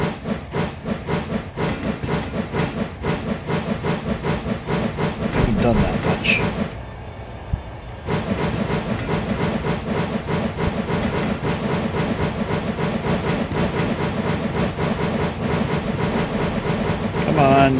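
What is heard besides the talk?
train driving in Minecraft Railroad mod (RoW), video game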